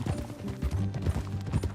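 Horse hooves clopping at a steady trot in the video game Red Dead Redemption 2, close and rhythmic, with a low rumble underneath.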